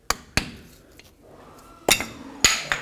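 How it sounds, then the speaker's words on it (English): Screwdriver prying the metal hub cap off a 2007-14 Chevy Silverado front wheel hub: several sharp metallic clinks and taps at irregular intervals, close and fairly quiet, with a soft scrape between them. "and pry the cap right off."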